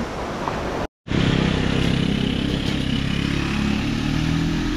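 A motorcycle coasts downhill near Dingalan, Aurora, giving a loud steady roar of wind and engine. The sound cuts out for a moment near the start, then carries on continuously.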